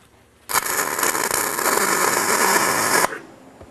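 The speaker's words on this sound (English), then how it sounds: "I've got the top and bottom gussets welded on both sides of the divider." Steel gussets being welded onto the divider of a vandal security cover frame: a loud, steady crackling hiss starts abruptly, runs for about two and a half seconds, then cuts off.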